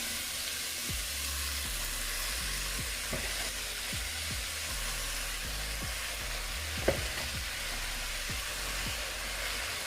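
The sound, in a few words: cabbage frying and sizzling in a pot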